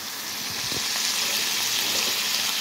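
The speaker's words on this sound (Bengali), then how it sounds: "এই যে এখানে পনির হচ্ছে ফ্রাই করতে দিয়েছি" Paneer fries in a pan with a constant, even sizzle and hiss, close and fairly loud, with no other sounds standing out.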